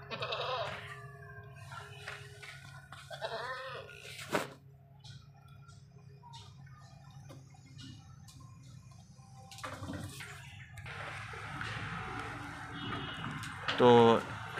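An Ajmeri female goat bleats in short calls, near and clear, with pauses between them and other farm noise around.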